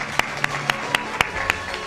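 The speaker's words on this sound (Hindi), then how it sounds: "एक तालियां जोर से" Several sharp, evenly spaced claps ring out over a faint murmuring background, a brief sparse burst of clapping.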